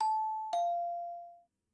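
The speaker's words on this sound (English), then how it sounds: "I'm really glad that my dog didn't hear that because she doesn't like doorbells" A two-tone doorbell chime sounds in a video game, a clean ding followed half a second later by a lower dong that rings out and fades over about a second, heard alone in silence.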